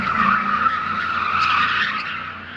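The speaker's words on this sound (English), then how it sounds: "he out here spinning the Crown Vic" Ford Crown Victoria spinning out, its tires skidding in a continuous loud squeal for a few seconds with no talk.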